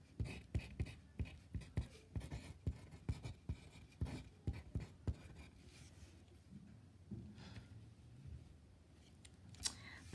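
An equation written by hand, with a quick series of close, crisp pen taps and scratches on paper, then softer, scattered strokes trailing off.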